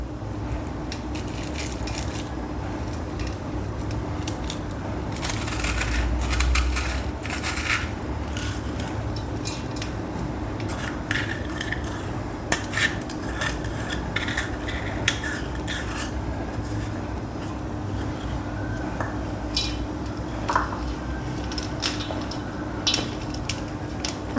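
Gentle rubbing and crumbly scraping of cheese corn ball ingredients being lightly mixed by hand in a bowl, a soft, steady, close-up texture with occasional small clicks and no talking.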